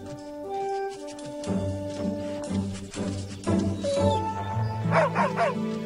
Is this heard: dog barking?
yes